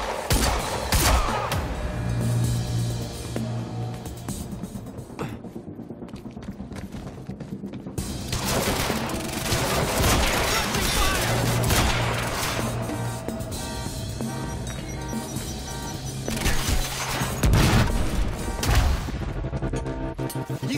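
Sustained gunfire in the video game Quantum Break, with dense bursts of shots, automatic rattling and crashing impacts, loud and close, continuing almost without pause.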